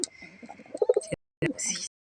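A few soft, low pigeon coos sound up close, followed by a brief rustle and a short pause.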